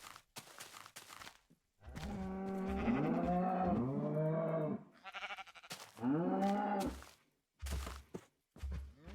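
Cows in a video game let out several drawn-out, wavering moos, a long pair of calls followed by another, interspersed with sharp clicking game noises.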